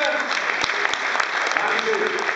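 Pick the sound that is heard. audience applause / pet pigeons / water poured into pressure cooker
audience applause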